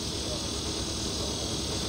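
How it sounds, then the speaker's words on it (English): Cicadas drone in summer trees, a steady, dense buzzing hiss that holds evenly throughout without pause, fairly faint and distant. "Cicadas give the trees a voice, and you can hear them roar in the dog days of summer."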